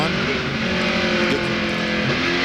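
NASCAR Craftsman Truck Series truck engine from an onboard view at Gateway International, loud and steady as the driver gets back on the throttle, with a dense, continuous drone throughout.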